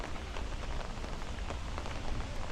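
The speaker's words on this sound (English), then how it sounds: "it was really rain and wind" Heavy rain pouring during a severe thunderstorm with damaging wind in Bensonhurst, Brooklyn, a dense, loud, continuous wash with scattered drop impacts and no voices.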